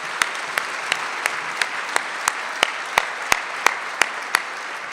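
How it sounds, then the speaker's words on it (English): Audience applause at an annual luncheon, with a sparse scatter of clapping: loud, distinct individual claps in an irregular rhythm over a soft wash of further clapping, and no talking. "Let's have a round of applause."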